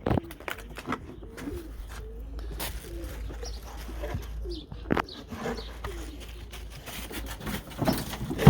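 Turkish performing pigeons coo repeatedly in soft, low rolling calls, with occasional chirps and light rustling in the background.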